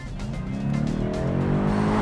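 A BMW M850i engine in Sport mode rising in a short, close rev as the throaty drone climbs steadily in pitch and loudness.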